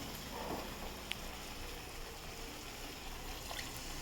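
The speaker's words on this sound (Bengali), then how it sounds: "সামান্য একটু জল দেবো" A small splash of water goes into spices cooking for ghugni, giving a steady wet hiss and trickle that holds evenly for about four seconds, close by, with no talking.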